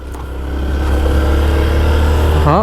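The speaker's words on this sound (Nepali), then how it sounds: "बाइक जिउ त खतरा कराउनु पर्छ" A steady low engine rumble from a Yamaha motorcycle builds slightly in loudness, with a rising whine near the end like a motor revving up.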